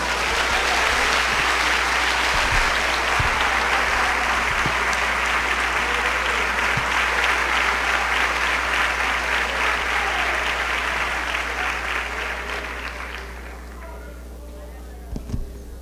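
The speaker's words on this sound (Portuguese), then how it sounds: "Pode aplaudir ao Senhor." Congregation applauds during a Pentecostal church service, sustained loud clapping that fades out near the end, followed by a voice.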